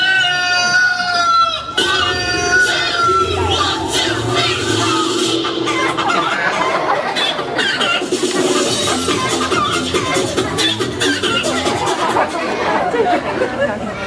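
A rooster crows in a short children's drama, its harmonic call rising near the start before giving way to busy chatter, clucking fowl and other farmyard sounds throughout.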